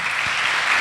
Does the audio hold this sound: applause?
yes